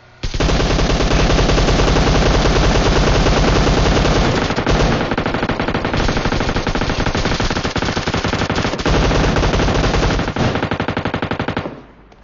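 Rapid automatic gunfire in a video game, loud dense bursts of machine-gun shots rattling almost continuously for about eleven seconds before cutting off.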